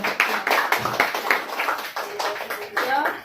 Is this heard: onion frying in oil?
no